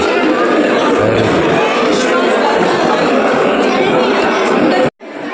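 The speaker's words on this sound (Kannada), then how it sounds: "ಫುಲ್ಲು ಕ್ರೌಡ್ ಇದೆ ಒಳಗಡೆ ಹೋಗೋಕ್ಕೆ" Dense crowd chatter at the entrance of a book exhibition at Vidhana Soudha, Bangalore, a steady loud babble of many voices close around, cutting out briefly near the end.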